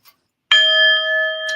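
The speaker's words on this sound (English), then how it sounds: "a little sound bell to remind us to bring our thoughts back to the center" A small bell rung once as a mindfulness reminder gives one clear, close strike followed by a bright, pure ringing tone that holds steady and slowly pulses as it sustains.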